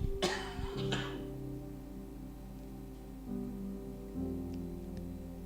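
Two quick coughs from a speaker during a church sermon burst out at the start, then a quiet low hum of background noise continues.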